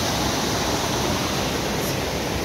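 Water pours steadily at Bamni Falls in the Ajodhya hills of Purulia, a close, loud, unbroken rushing hiss with no voices over it.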